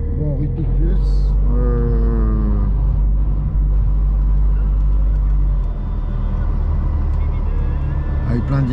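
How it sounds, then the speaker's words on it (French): Vintage cars rumble through Paris streets in a steady low traffic drone, a passing engine rising briefly near the start, with a person talking over the noise. "Avec plein de vieilles bagnoles"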